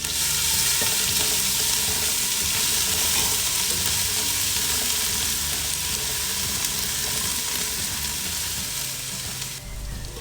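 Ginger and garlic fry in hot oil with bay leaves, star anise, cloves, cardamom and cinnamon, giving a loud, continuous sizzle with occasional stirring scrapes.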